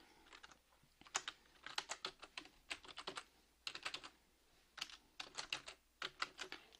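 Soft, close clicking of fingers typing on a computer keyboard in a quiet library setting, coming in quick bursts of keystrokes separated by short pauses, with no talking.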